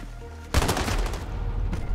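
Shotgun blasts in a Modern Warfare match: a sudden loud boom near the half-second mark, followed by dense overlapping gunfire and explosive bursts from several weapons that continue steadily, close and heavy, with no voices.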